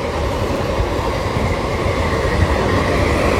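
An express train runs past on the line beside a station platform while a MEMU train waits on a siding, its steady loud rumble and rolling wheel noise continuous and close throughout.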